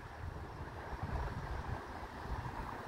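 A diesel commuter train from Chicago rolls into Prospect Heights station as a low, continuous rumble, partly buried under wind buffeting the microphone, with no voices.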